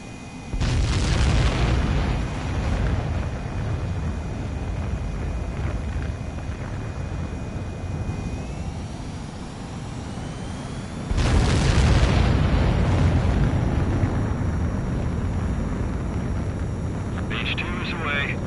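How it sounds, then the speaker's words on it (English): A jet aircraft launches for takeoff in the video game Ace Combat 7: a loud, sustained engine roar that surges sharply partway through with a rising whine, with a radio voice talking over it. "H2, begin takeoff sequence. You're cleared for launch."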